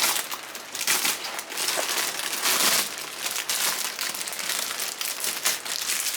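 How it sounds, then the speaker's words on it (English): Orange threaded tape packaging is cut and pulled away, giving a dense, continuous crinkling and rustling close by, with no talk. "let's cut off the threaded orange tape"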